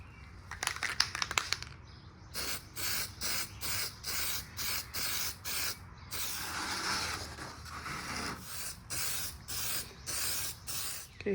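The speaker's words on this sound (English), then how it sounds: "safety coat of the conformal coating" Conformal coating sprayed from an aerosol can onto power transformer laminations from an Airline 62-425, in a series of short, even hissing bursts with brief pauses between them and one longer continuous spray in the middle.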